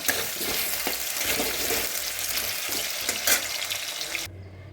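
Potatoes fry in hot oil for a mutton curry, a steady broadband sizzle with small crackles that runs unbroken and then cuts off abruptly near the end, leaving a quiet low hum.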